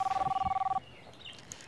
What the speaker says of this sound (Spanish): Ay, ¿qué? El teléfono.